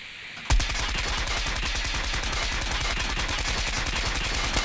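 Sustained full-auto fire from the KN-44 rifle in the COD Mobile game starts abruptly after a brief pause, a rapid, evenly spaced stream of loud close shots that continues without break to the end, with no voices.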